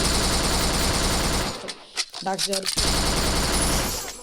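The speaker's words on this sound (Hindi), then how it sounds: "मुझे फायर का साउंड आ रहा होता है" Rapid automatic gunfire from dual Vector guns in a mobile shooter game rattles in dense bursts, loud and close. A brief pause in the middle carries a short spoken voice before the firing resumes.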